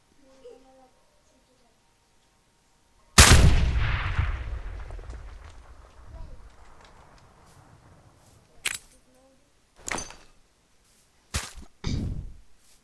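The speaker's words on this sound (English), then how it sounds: "Let's do a hand grenade." A hand grenade explodes in the Minecraft Superb Warfare mod, a loud booming blast with a long rumbling decay, followed by several shorter sharp bangs; a voice talks briefly between them.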